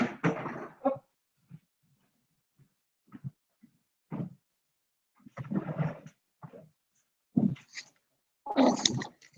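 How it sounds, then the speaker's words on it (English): A pet dog indoors makes short, rough, growly vocal bursts close by, scattered in uneven clusters with near-silent gaps between them, the loudest coming at the start and the end. "Let me go get my dog."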